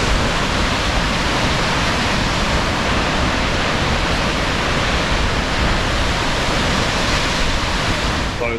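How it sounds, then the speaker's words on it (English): Mount Damper Falls waterfall, a steady, loud broadband rush of falling water close by, continuous and unbroken throughout. "This is the actual main Mount Damper Falls."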